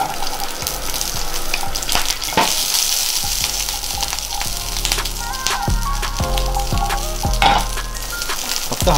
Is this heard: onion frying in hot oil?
yes